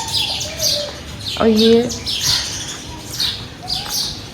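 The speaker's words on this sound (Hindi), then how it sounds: "इतनी खूबसूरत आवाज़ें आ रही हैं चिड़ियों की," Birds chirp and tweet from inside a tree in an outdoor setting, with repeated short calls scattered throughout and one louder call near the middle, while someone talks briefly over them.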